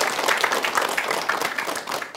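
Studio audience applause on an Islamic religious television program in Denpasar, Bali: dense, steady clapping from a group fills the whole stretch at an even, fairly loud level, with no voices over it.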